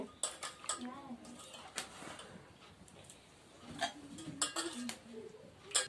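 Prawns are stirred in a pan over a wood-fired stove, with a metal spoon scraping and clinking against the pan in irregular bursts while a voice talks quietly.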